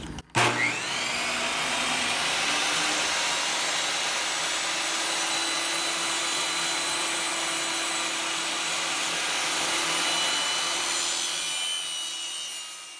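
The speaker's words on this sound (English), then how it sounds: "So I have my table saw here, I have my guard set at 1 inch, and then I'm going to run this through." A table saw rips a strip of wood to repair the drawer slide of a vintage dresser, with a sharp start followed by a loud steady whining cut lasting about twelve seconds, close by, before winding down.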